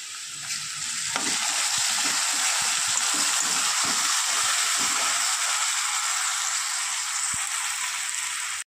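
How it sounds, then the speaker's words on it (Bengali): Ginger garlic paste frying hot in a pan with fried potatoes for Bengali mutton ghugni: a loud, continuous hissing sizzle, with a few soft stirring knocks near the start that then fade. "আদা রসুন পেস্ট দিয়ে আমি একটু ভেজে নিয়েছি।"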